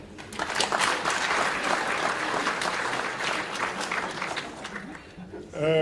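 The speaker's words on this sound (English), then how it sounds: "So let us really applaud him again." An audience applauds a distinguished Harvard professor after his talk, a dense sustained round of clapping filling the room, easing slightly before a voice starts speaking at the very end.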